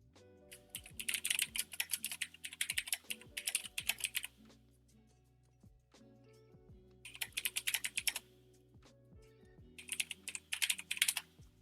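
A computer keyboard is typed on in three bursts of rapid clicking keystrokes, each lasting a few seconds, with quiet pauses in between; the sound is close and crisp, with no talking.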